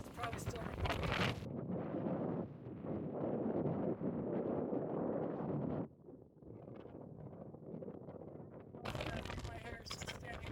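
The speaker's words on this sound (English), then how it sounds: "the wind blew off my hat, blew the GoPro down, which is probably still recording." Strong wind buffets a fallen GoPro microphone out on an open antelope hunting ground, roaring loudly and continuously with gusts that surge and briefly ease.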